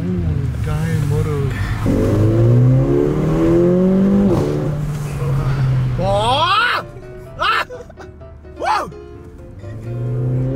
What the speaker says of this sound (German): wie AMG das geschafft hat, Digga, mit 4 Zylinder so einen Sound rauszubringen, Morik.